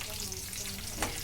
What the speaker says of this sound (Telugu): ఇలా పోపులు వేపుకున్నాకండి బాగా వేపుకోవాలి.